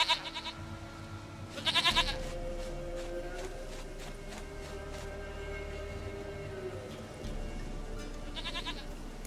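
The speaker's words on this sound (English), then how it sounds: "Goat of mine, dearest, sweetest goat." A goat in The Witcher 3 gives a few nasal bleats, one at the start, a louder one near two seconds and another near the end, over a steady low ambient rumble.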